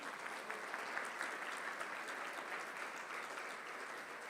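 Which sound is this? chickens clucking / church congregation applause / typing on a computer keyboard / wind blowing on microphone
church congregation applause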